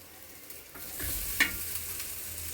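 Peanuts and green chillies frying in a little oil give a soft, fairly quiet sizzle that swells after a moment, with one sharp scrape or tap of a utensil partway through.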